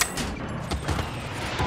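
Rapid video-game gunfire crackling in short bursts as the player character takes hits, a dense, fairly loud volley with a few sharper shots standing out and no talk over it.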